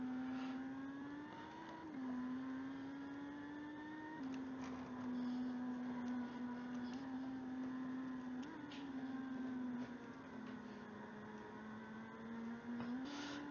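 Steady engine drone of a race car in the Automobilista 2 racing game, holding a sustained tone that rises and dips slightly with throttle, continuous and fairly faint throughout.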